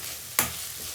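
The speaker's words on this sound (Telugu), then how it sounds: "ఆనియన్స్ బాగా మగ్గే వరకు మనం తిప్పుకుంటూ ఉండాలి" Onions frying in a pan give a steady soft sizzle, broken by one quick scraping stir of a spoon near the middle, close-up and alone.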